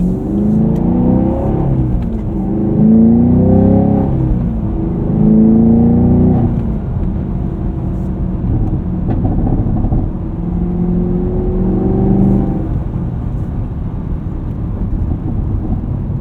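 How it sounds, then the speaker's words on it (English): A Chevrolet Camaro SS 1LE V8 on winter tires accelerates hard through repeated gear pulls, its loud engine note rising in pitch several times before settling into a steadier, continuous drone with no talking. "there's a first drive in the Camaro SS1LE"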